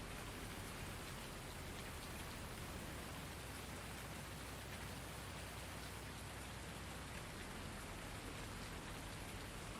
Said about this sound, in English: Game called on account of rain.